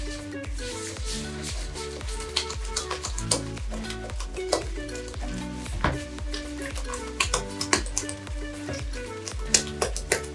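Carrots, eggs and sugar stirred together in a bowl with a wooden spoon, a steady scraping, knocking rhythm with frequent sharp clicks against the bowl, close and fairly loud, with no voices.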